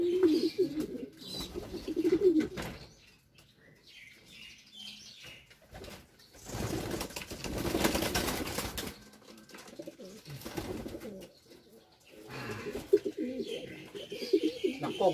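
Pigeons coo in low, soft bursts at close range, with wings flapping loudly in the middle, and other bird calls in the background.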